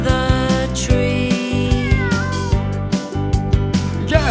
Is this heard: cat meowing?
yes